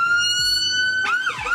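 A loud, steady siren tone holds near the listener, then shifts into a warbling, sweeping wail at the end, with no voices over it.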